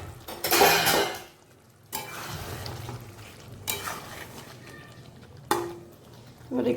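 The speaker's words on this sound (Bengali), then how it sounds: "এবার ডিম ভাজাগুলো দিয়ে দিচ্ছি" Fried eggs go into a pan of simmering potato curry, bringing a few separate bursts of utensil clatter and sizzling with quieter bubbling in between.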